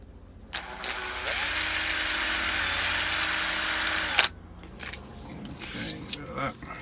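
A power drill with a 1mm bit whines at high pitch while boring holes in a Micarta guitar pick for about four seconds, then stops, followed by clicks and handling noise with a little talk.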